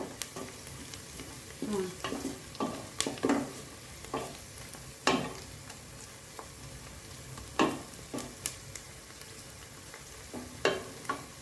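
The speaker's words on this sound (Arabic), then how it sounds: "المهم انا غادي نبقى كنحركها وهي كتشحر." Onions fry in a pan under a quiet, continuous sizzle, with repeated sharp scrapes and knocks of a spoon stirring them at irregular intervals.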